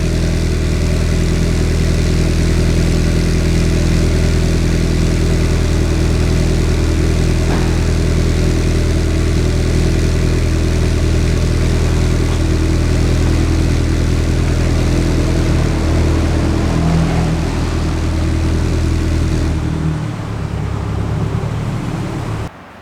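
A Toyota GR86 idles loudly and steadily through a new front pipe and GReddy Supreme SP exhaust, with a deep rumbling exhaust note that holds for a long stretch, then cuts off near the end.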